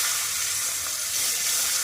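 Sliced onion hits hot oil tempered with whole garam masala, cumin and dry red chilli, giving a steady, close, bright sizzle of frying with no talking.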